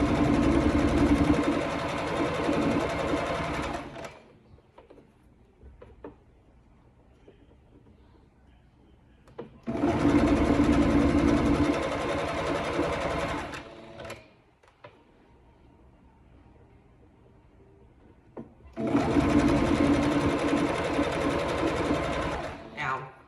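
A sewing machine hems a stretch-fabric dancewear skirt, running in three loud, steady bursts of several seconds each, separated by near-silent pauses.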